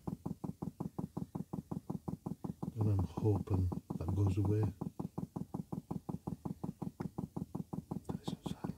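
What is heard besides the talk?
Chinese diesel heater fuel pump ticking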